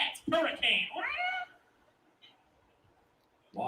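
A voice imitates feral cats meowing, with a few loud, drawn-out meow-like wails in the first second and a half, then near silence, and another burst of sound at the very end.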